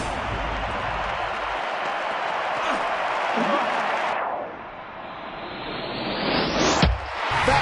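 Loud, sustained stadium applause and cheering from a large crowd in a London Olympics video game, swelling and fading, with a sharp whoosh sweeping upward near the end.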